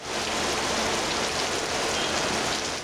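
Steady rain pours down across a city, a dense, even hiss of falling water that holds at constant loudness throughout with no voices.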